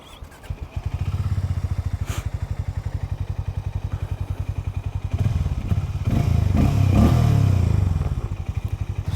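A Hero Hunk 440 motorcycle is started in neutral and settles into a loud, close, rhythmic idle thump, briefly revving louder before easing back to the steady idle.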